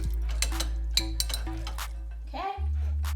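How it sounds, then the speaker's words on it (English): A utensil stirring a vegan egg-noodle mixture in a bowl, quick clinking scrapes over a steady low background hum, close and fairly loud. "so mix that up"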